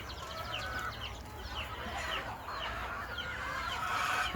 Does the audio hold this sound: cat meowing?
no